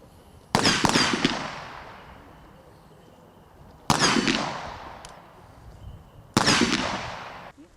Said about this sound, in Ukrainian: Андрію Аніцую віддали останню шану стрілецьким салютом